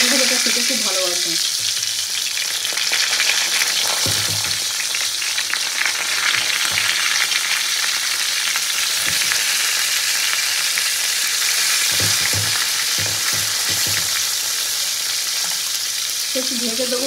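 Pointed gourd (potol) slices frying in hot oil with a loud, continuous bright sizzle, broken now and then by a few low knocks and stirring sounds, close up with no talking.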